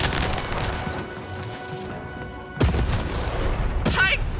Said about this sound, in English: To fire the cannon.